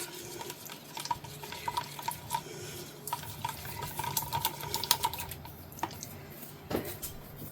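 Green acrylic paint mixed with glue being stirred, a soft wet squishing with light irregular taps and scrapes against the cup, close and fairly quiet, with no one talking.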